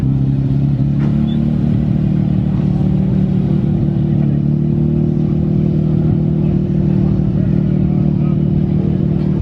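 A Nissan Skyline R32 GTR rolls in with a loud, steady low engine drone and rumble that holds throughout, with no talk over it.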